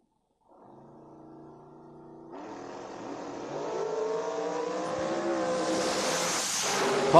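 Drag racing cars at the Fall King of the Creek event roar from a low idle into a hard launch, engine noise swelling louder and rising in pitch as they pull away down the track.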